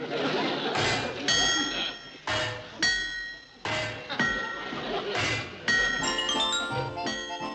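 Repeated metal-on-metal whacking on the old Cannonball locomotive, a run of clanging, ringing strikes in uneven bursts with some talk mixed in.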